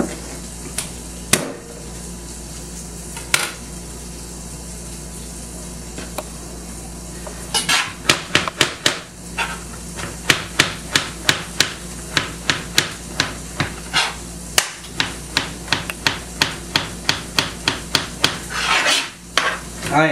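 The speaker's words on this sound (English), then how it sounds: "I am not the greatest at mincing garlic" Garlic being minced with a knife on a cutting board, rapid repeated chopping taps that start sparse and then run as a quick, steady series of sharp close knocks.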